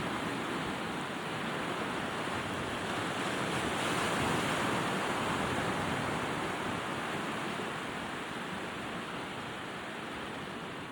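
Ocean surf at a rising tide roars as a constant, broad wash of breaking waves, loud and close with some wind mixed in, and no voices.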